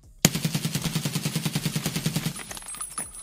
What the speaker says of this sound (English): This is the SCAR H, which is this alternative to the MDR.